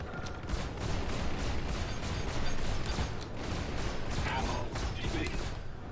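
Ship-mounted guns on an Avenger spacecraft in the Star Citizen game fire in rapid, dense bursts, a continuous loud rattle of repeated shots with faint mechanical clanks mixed in.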